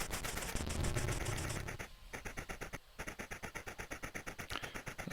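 Rapid, evenly pulsed gunfire from the Commodore 64 game The Train as a train's guns shoot at attacking enemy fighters, a steady mechanical rattle running through the whole passage, loud and alone.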